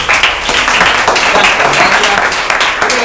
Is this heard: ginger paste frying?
no